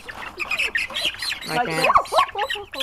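A chick squawks loudly and repeatedly while being picked up, the shrill cries close and overlapping with people talking nearby.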